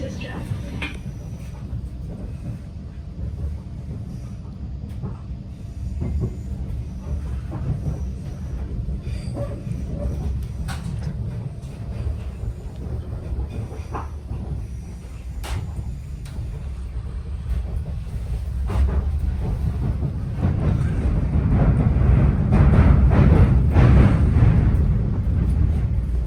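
Greater Anglia passenger train running on the railway, heard from inside with a steady low rumble that swells louder toward the end, a voice announcement speaking over it.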